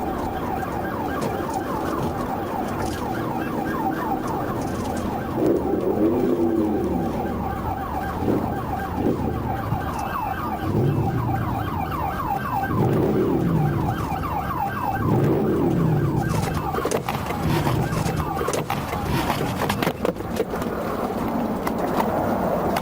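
Police and emergency vehicle sirens wailing during a high-speed pursuit of a Harley-Davidson rider, rising and falling tones sustained throughout alongside passing traffic and engine noise.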